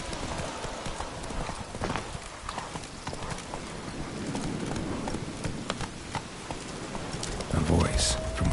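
Horse hooves clip-clop in a steady trotting rhythm in The Witcher 3, with rain pattering in the background and a voice speaking briefly over the hoofbeats.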